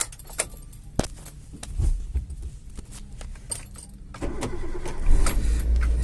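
A Maruti Wagon R with a check engine light lit is started, with keys clicking and jangling first, then the starter catches and the engine settles into a close, steady idle.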